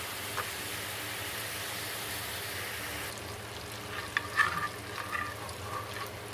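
Cream from boiled milk bubbles and sizzles steadily in a hot pan as it renders into ghee, a constant soft frying hiss with a few faint scrapes of stirring near the end.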